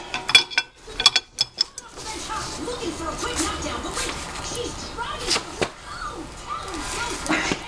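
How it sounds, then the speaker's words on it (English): A wrench clicks and ratchets in a few quick, sharp metallic bursts while loosening the steering rack bolts of a side-by-side held in a vise. Someone talks over the steady hum of the workshop. "Grab a handy dandy wrench."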